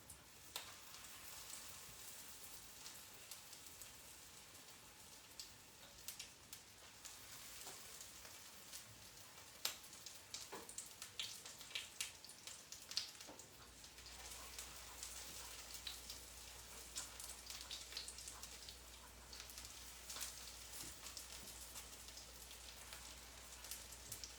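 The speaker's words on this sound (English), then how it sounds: "Nice sizzle." Grain-free crispy honey shrimp sizzling in a hot pan: a steady, close, bright hiss dotted with small crackles and pops, with a low hum coming in partway through.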